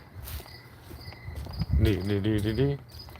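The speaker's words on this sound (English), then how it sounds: "can you hear the crickets?" Crickets chirp in a thin, high, steady trill, with a brief low muffled sound and a faint voice-like hum partway through.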